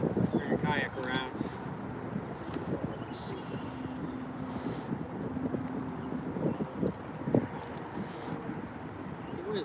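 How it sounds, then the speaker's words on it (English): Wind gusting over open water during a kayak fishing outing, a steady rushing noise buffeting the microphone with faint paddle and boat sounds, while someone talks over it throughout. "The wind has definitely picked up since I've been here"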